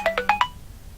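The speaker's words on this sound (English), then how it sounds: "Sorry about that was my phone." Mobile phone ringtone: four quick bright electronic tones in a rising run, loud and close, then silence.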